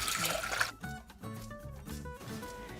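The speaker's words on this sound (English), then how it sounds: "We're going to place 5 cups of water into a saucepan." Water is poured from a container into a saucepan, a close gurgling splash that shifts into a rising, ringing fill tone as the pan takes on water, moderately quiet and alone.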